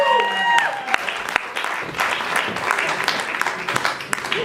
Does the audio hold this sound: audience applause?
yes